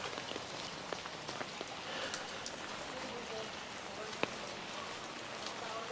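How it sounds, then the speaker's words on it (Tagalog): Light rain patters steadily on surfaces in a river park, with scattered individual drops ticking distinctly over a soft, continuous hiss. "Ngayon umuulan lang kaya ano."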